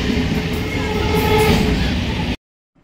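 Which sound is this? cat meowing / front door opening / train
train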